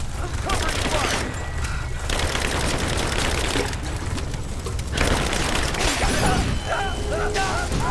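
Gunfire rattles in the video game Rise of the Tomb Raider, dense bursts of shots and booms layered over game noise, loud and continuous, with voices talking through the action.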